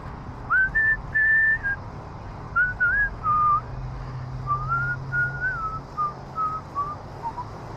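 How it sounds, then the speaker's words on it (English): A person whistles a meandering melody in short phrases with pauses, clear and close over a low background hum. "I hope you like my whistling."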